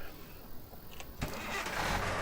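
A car engine starts in the video game Thief Simulator, a starter crank followed by the engine catching and settling into a rising mid-pitched idle, fairly quiet and close.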